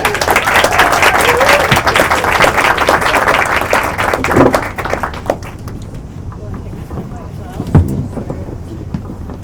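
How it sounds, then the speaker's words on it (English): An audience at a Dundee storytelling event gives Becca a big round of applause, loud and dense at first, then thinning into scattered claps with a few last isolated ones. "should we give Becca a big round of applause?"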